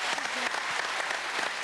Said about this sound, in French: on peut les applaudir tous